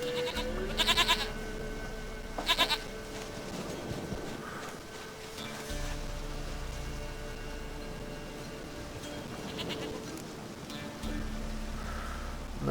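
A goat in The Witcher 3 bleats twice in quick short bursts near the start, then the scene settles into soft steady ambience with a low hum that comes and goes.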